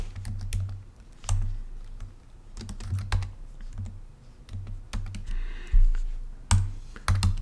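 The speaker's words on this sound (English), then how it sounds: "typing is proving challenging this morning" Steady typing on a computer keyboard, a flurry of close key clicks with brief pauses and a few heavier keystrokes, no voices.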